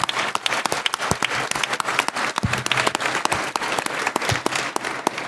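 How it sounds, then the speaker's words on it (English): Audience applause at a public debate on competition in Canada's healthcare system: a dense, steady burst of clapping from a crowd, loud and sustained for several seconds with no talking over it. "I'll invite you to start us off with one round of applause, and then Christy Clark will begin her remar"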